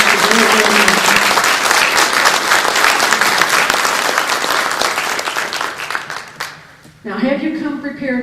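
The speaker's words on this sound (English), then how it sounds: "I think that deserves a strong group of applause for these people that are willing to do this." Loud, sustained applause from a town hall audience honoring congressional candidates at a Tea Party meeting, dense clapping for about six seconds before fading and giving way to someone speaking.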